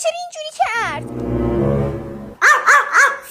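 A pet dog at home barks at a visiting relative in several sharp, high, close barks, mixed with excited voices.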